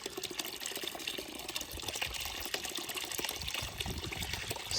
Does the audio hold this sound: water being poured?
yes